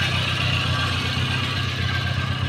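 A 1988 Suzuki Jimny engine idles through its exhaust with a steady, deep, loud rumble and even low pulsing, heard close up without talk.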